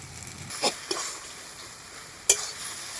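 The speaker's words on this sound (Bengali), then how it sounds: "এবার আর একটু পাঁচ মিনিট ভালো করে নেড়ে চেড়ে ভেজে নেবো" Quiet frying sizzle of crab with chili powder, with a few brief scraping strokes of a spatula stirring in the pan, heard alone.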